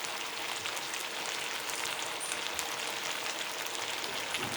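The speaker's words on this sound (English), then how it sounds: "Just continue to see it sizzling along." Ginger chicken browns in a pan on an induction cooktop, giving a steady, dense sizzle with fine crackling throughout, close and continuous, with no talk.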